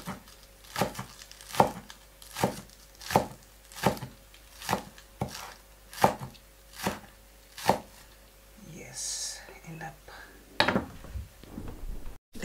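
A sharp kitchen knife chops spring onion on a board in a steady series of about nine crisp, evenly spaced thuds. The chopping stops, leaving a brief rustle, then a final clatter close by.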